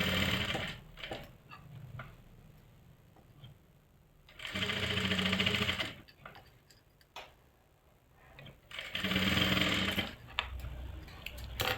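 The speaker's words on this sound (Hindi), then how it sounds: "अब इसको इस तरह से ओपन करेंगे और ऐसे पे इस तरह से सिलाई लगा देंगे।" Sewing machine stitching a salwar, with three separate bursts of rapid mechanical stitching between quieter pauses filled with faint handling and clicks.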